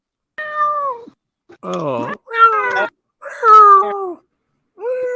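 A cat meows several times in a row, close and fairly loud, the long drawn-out cries broken by short pauses, while a person speaks briefly at the start.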